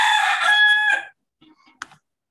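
A rooster that has just woken up gives one loud, drawn-out crow nearby, followed by a few faint clucks and a short sharp sound.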